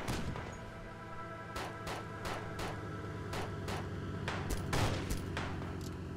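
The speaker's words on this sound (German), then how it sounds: "Genau die Waffe, die da gerade schießt" Gunfire from a weapon in DayZ Overpoch, a rapid string of sharp shots fired in bursts and single cracks over a steady low rumble, fairly loud throughout.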